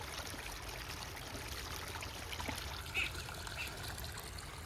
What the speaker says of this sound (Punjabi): ਪਾਣੀ ਆਪਣਾ ਜਮਾਂ ਤੁਰ ਪੈਣ ਲੱਗ ਗਿਆ